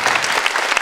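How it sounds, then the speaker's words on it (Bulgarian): Audience clapping briskly at a children's theatre troupe's 20th anniversary celebration, a dense burst of applause heard alone and close. "силни аплодисменти"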